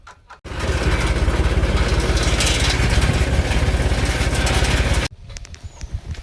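Tractor engine idling: it catches after a brief quiet moment and runs with a steady, throbbing low chug for several seconds, then cuts off abruptly, leaving faint background noise.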